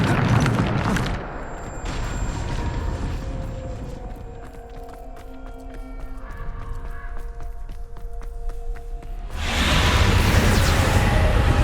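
Booming blasts from the Bombarda explosion spell in Hogwarts Legacy burst loudly at the start and again near the end, with quieter ringing magical tones and clatter between the two heavy rumbling explosions.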